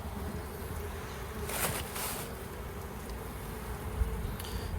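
Honey bees buzz steadily around an opened Langstroth hive during a hive division, a constant close-up drone with a brief louder rustle in the middle and no talking.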